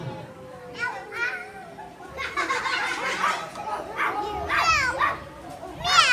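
Children at play mimic a dog's bark, several short voiced woofs rising out of lively kid chatter and shouts, close and fairly loud.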